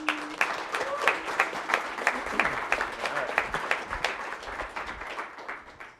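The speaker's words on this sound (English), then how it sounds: "Give them a big round of applause." An audience at a morning presentation event claps for two presenters, a moderate ragged round of applause with individual claps standing out, fairly distant and tapering off.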